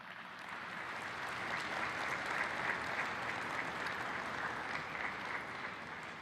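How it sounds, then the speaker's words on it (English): Sustained applause from a large crowd for inductees at a chess Hall of Fame induction ceremony, steady and even for several seconds with no talking over it. "Another round of applause for them."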